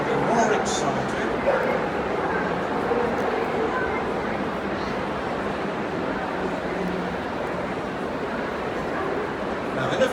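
An excited dog yips, whimpers and barks repeatedly amid a busy, echoing Crufts arena display, with crowd noise and talk running constantly underneath.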